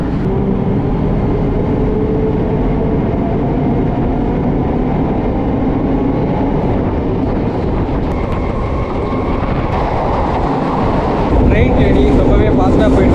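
A Chennai suburban train on the Velachery to Ponneri line rolls along from inside, a steady rumble with brief rail clatter that picks up near the end, while someone talks over it.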